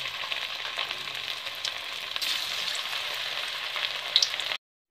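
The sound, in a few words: aloo kofta balls frying in hot oil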